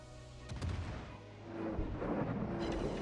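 USS Iowa, a Tier IX American battleship in World of Warships, lets off a gun salvo, a deep booming blast followed by rolling rumble and a second swell, moderately distant with no voices.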